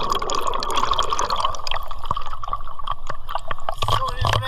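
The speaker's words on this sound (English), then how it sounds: "Let's prepare ourselves and jump inside of the water." People jumping into the water of Canal Saint Martin in Paris during a heatwave, with close, loud splashing, sloshing and dripping water and voices talking over it throughout.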